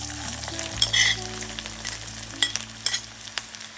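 Raw bitter gourd pieces dropped into hot oil for deep frying, giving a close, steady sizzle with bubbling bursts and a few clinks from stirring.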